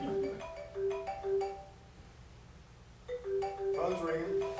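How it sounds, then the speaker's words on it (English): A telephone ringing indoors, two bursts of a repeating electronic tone pattern separated by a short pause, heard fairly clearly with speech-like tagging but no words. "Phone's ringing."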